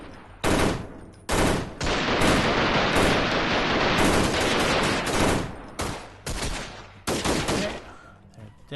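Rapid bursts of automatic gunfire and shots in a Half-Life mod shooter game, loud and dense with short gaps between volleys across the whole stretch.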